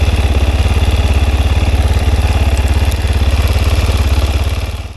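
An enduro motorcycle engine with a freshly serviced PWK 34 carburetor runs at a loud, close, steady idle, its rapid regular pulsing continuous throughout and tapering slightly at the very end.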